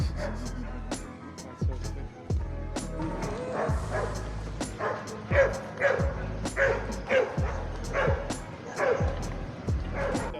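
Dogs bark and yip repeatedly in an outdoor park in Mexico City's Roma Norte area, sharp, fairly close barks recurring every second or so over a continuous background of voices and ambient noise.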